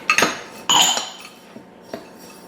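A spoon clinks against a bowl while mixing melted butter, sugar and graham crackers for a no-bake cheesecake crust, with two sharp scraping strokes followed by quieter taps, close up and with no talking.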